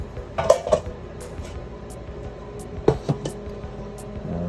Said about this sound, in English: I'll just wipe the pans out.